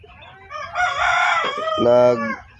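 A rooster crows loudly and close by, a drawn-out call with a rising, harmonic tone, with no talking.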